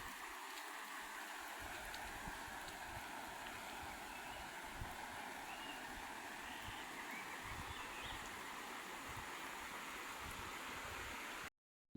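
Monsoon-swollen village river in the Konkan, now running a little lower, giving a dense unbroken roar of flowing water throughout before cutting off abruptly at the very end.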